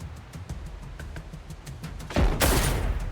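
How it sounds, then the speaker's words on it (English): Gunfire from an anti-air turret aimed at the player's ship in the video game Lost Skies: a steady run of rapid shots followed by a loud, dense burst near the end, close and harsh, with no talking. "there's got to be something shooting at my ship"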